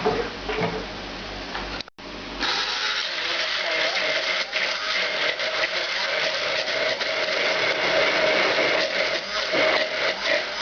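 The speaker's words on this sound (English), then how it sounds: "And we're going to puree this." A blender purees a marinade of cider vinegar and a dash of liquid smoke, running loud and steady after a brief stop near the start, with a constant whirring motor drone.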